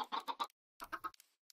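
Chickens clucking in the video game Minecraft: a quick run of three loud, close clucks, a pause, then another cluster of clucks and a short final burst, with no talking.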